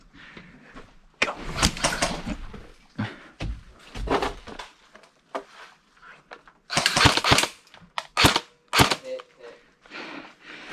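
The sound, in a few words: airsoft guns firing during an airsoft game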